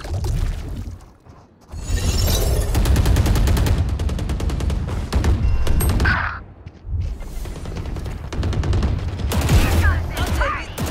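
Valorant match with dense bursts of rapid gunfire, automatic weapons chattering in long sustained volleys with brief pauses, loud and close, while game voice lines sound between shots.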